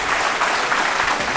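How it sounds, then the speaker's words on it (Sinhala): Studio audience applause on a Tik Tok Show set, a dense steady burst of many hands clapping at close range throughout, with no voices over it. "රයිට් දෙන්න ක්ලැප් එකක්"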